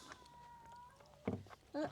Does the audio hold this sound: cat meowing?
yes